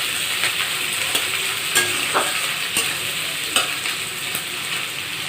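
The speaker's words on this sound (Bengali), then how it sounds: "এইভাবে নাড়াচাড়া করে ব্রাউন কালার হয়ে গেলে আমি নামিয়ে নেব পেঁয়াজটা।" Onions fry in hot oil while being stirred toward brown, a dense continuous sizzle with periodic scrapes of a spoon against the pan, close and alone without talk.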